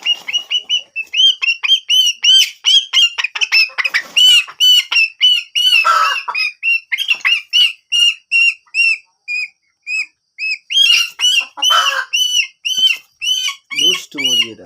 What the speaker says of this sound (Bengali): দুষ্টু মুরগি এটা।